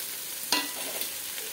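Chili, onion and ginger-garlic paste with spices sizzle steadily in hot oil in a home kitchen pan, with a brief louder hiss as the paste hits the fat, then an even fry without talk.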